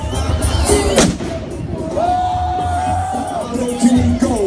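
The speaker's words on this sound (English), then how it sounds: "More fireworks by Antifa." Fireworks set off at a street protest between rival groups, a sharp loud blast standing out over a noisy crowd with shouting voices and a sustained whistling tone.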